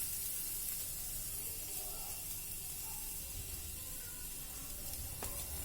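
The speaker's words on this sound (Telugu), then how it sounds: "పైనుంచి కొద్దిగా ఆయిల్ని యాడ్ చేసుకొని ఫ్రై చేసుకోవాలి" Garlic and ginger frying in oil in a pan give a steady, faint sizzle and hiss that carries on evenly throughout.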